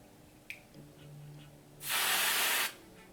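Hair spray hisses in one steady burst of just under a second onto the roots of a curly bob wig, loud and close after a few faint handling taps and clicks.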